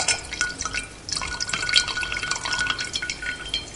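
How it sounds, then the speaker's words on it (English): Water falls in small steady drops onto crystals in a horror-film setting: clear, close, irregular plinks and splashes continue throughout, with no voices. "a constant but regulated flow of water, falling into little drops onto the crystals"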